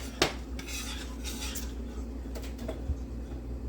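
A spoon clinks and scrapes around a bowl while a strawberry pie mixture is stirred, with a sharp knock near the start and a few lighter taps later over a low steady hum.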